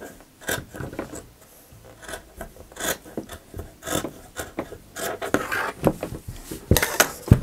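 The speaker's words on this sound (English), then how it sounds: "Gonna trim the edge off a bit." Scissors trimming the edge of a thrifted oversized hoodie's fabric, giving repeated close snipping and rasping cuts in an irregular rhythm without talk.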